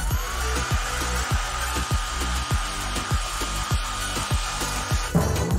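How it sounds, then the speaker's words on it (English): A blow dryer aimed at a frozen pizza, a steady whirring motor hum with a regular pulsing rasp, close and continuous, ending in a sudden louder clatter. "But I do have a blow dryer."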